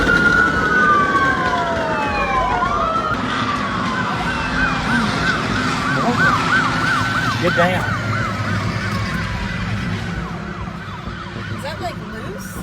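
Wailing police sirens sweep up and down loudly during a chase, several overlapping in pitch, alongside traffic noise and a brief shouted voice, slowly fading toward the end.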